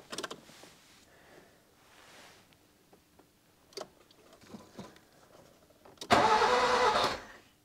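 A flooded Nissan Micra K11 engine cranks without starting, a loud rapid churning burst of about a second after scattered quiet clicks and handling noises.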